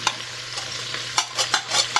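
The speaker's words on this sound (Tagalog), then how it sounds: "Ilagay na natin yung bawang" Garlic fries in a pan for pork and beans, a close steady sizzle punctuated by several quick spatula scrapes and stirs in an uneven rhythm, with no talking.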